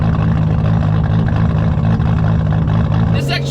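Straight-piped 2JZ engine in a 700-horsepower Saturn Sky, a loud, steady, buzzing exhaust drone heard from inside the car, with the tone shifting briefly near the end and a person talking over it.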